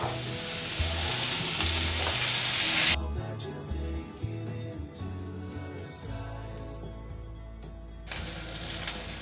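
Vegetables including raw plantain, long beans and drumstick pods sizzle steadily in oil in a pan while being stirred, with scraping and clattering of the spoon throughout and the frying hiss dropping briefly midway before rising again.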